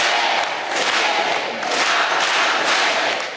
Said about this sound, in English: The crowd erupting into cheers when they see the Pope.